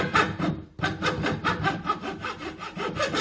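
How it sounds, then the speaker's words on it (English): Fine sandpaper rubbing back and forth over tough oiled wood, a steady rhythmic series of close, scratchy strokes after a short pause near the start. "a light sand with some fine sandpaper will sort that out"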